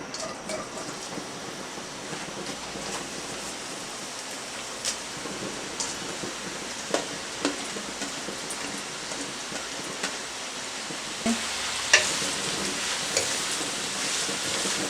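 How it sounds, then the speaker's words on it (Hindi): Carrots fry in oil for Afghani Kabuli beef pulao, a soft, even hiss like light rain that carries on throughout, with scattered faint pops and clicks. "अब थोड़ा सा ऑयल और डालें इसमें और इसमें गाजरें डाल दें, इनको फ्राई करना है।"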